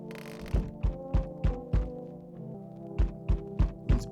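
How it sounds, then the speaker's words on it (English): Banging on a door in the horror video game No I'm Not a Human: about nine loud, heavy thuds in an uneven rhythm with a brief pause in the middle, close and alone over a low hum. "It's banging on my door this time."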